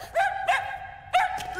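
A dog gives three sharp, close barks in quick succession, with short gaps between them, heard alone with no talking.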